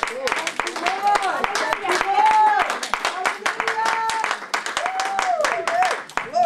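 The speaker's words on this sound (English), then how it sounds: "you can clap better than that" A church congregation claps in a steady rhythmic beat during lively worship, with sharp, evenly spaced claps under a preacher's sung and chanted voice.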